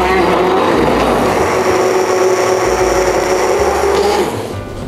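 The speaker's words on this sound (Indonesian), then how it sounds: "Dan kita akan blender menggunakan hand blender sampai halus." A hand blender purees a spice mixture with candlenuts and thin coconut milk for a Bangka mushroom dish, a loud steady motor whine with a grinding texture that runs continuously and then eases off at the end.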